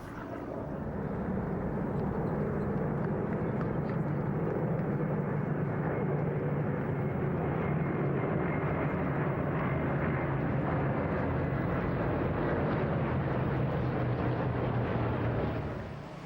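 A formation of vintage aircraft flies past at an airshow, a loud, sustained piston-engine drone that swells and holds throughout before easing slightly at the end.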